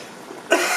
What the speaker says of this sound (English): Don't cough into the food.